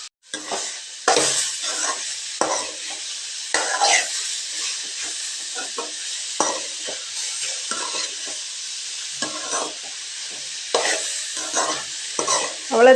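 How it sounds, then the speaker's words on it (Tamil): Radish poriyal frying in a pan is stirred repeatedly, with scraping strokes over a steady close sizzle and hiss of the cooking vegetables, no voices. "நல்லா கிளறி விட்டுட்டு இப்போ கொத்தமல்லி தழை சேர்த்துக்கலாங்க"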